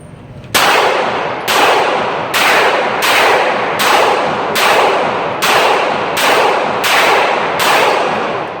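Gunshots at a shooting range: about a dozen loud, sharp reports fired one after another at a steady, fairly quick pace, each ringing out briefly before the next, with no talking.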